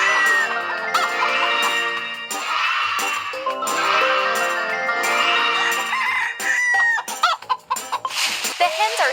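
Hens cluck and a rooster crows loudly and close, the calls layered and repeating in bursts with brief choppy pauses toward the end.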